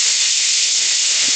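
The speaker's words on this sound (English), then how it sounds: "Just give it a quick little fry" Food frying in a pan for egg bites gives off a loud, steady, close hiss with no break, carrying on alone without any talk.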